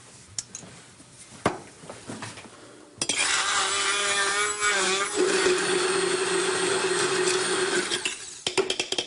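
A blender purees tender parsley stems with olive oil, a loud steady whirring grind that kicks in after a few seconds of quieter kitchen handling and runs to the end, dropping in pitch partway through.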